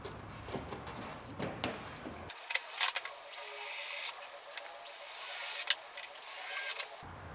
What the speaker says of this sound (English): We're just drilling it right in the body.